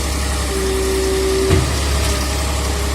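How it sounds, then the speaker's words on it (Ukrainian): Repaired heavy construction machinery engine running steadily at idle, a continuous low rumble with a brief louder knock partway through. "відновили, відремонтували свою техніку і зараз вона працює"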